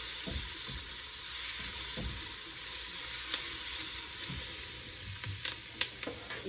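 Enchilada soup ingredients sizzle steadily in a hot pot while being stirred, a continuous close frying hiss with soft scraping strokes and a few sharper clinks near the end; no talking.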